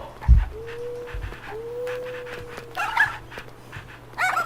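Puppy panting in the Nintendogs video game, a steady soft breathy rhythm close up with a few small whimpering tones, rather quiet and heard without talk.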